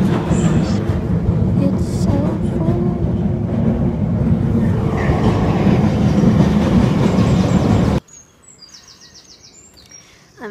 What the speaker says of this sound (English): Subway station, going home.